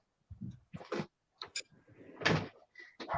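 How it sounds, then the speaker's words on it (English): A door is swung and pushed shut close by, giving a series of clunks and a brief scraping slide in an indoor room. "Yeah, I better shut the door."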